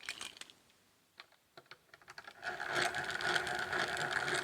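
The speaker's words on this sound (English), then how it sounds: "there's one additional thing you could always do, and that is to countersink it. Get a countersink bit." A countersink bit turning in a Millers Falls No. 5 hand drill: quiet clicks at first, then a steady close grinding, rasping whir as the bit cuts.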